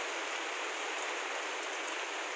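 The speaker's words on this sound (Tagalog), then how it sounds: "mahina pa yung ulan na yan." Steady heavy rain falling, a dense even hiss of drops on surfaces, continuous and fairly close, with no voices.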